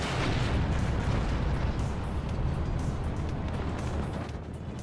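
Heavy, sustained battlefield rumble from the WARNO war game, with overlapping explosions and artillery thuds blending into a dense roar, punctuated by occasional sharper bursts and fading slightly toward the end.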